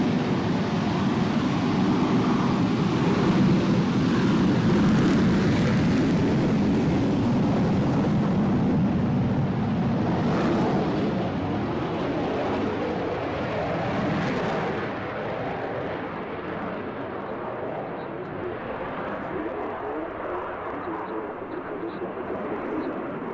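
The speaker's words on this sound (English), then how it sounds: "we've heard this great sound of this Phantom" An F-4 Phantom jet aircraft gives a loud, sustained roar that holds steady and then eases slightly toward the end, with people talking over it.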